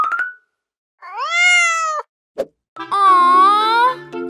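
Cartoon cat from Rusty Rivets meowing: two drawn-out, wavering meows, close and clear, with a short plop-like knock between them and a brief clipped sound at the start.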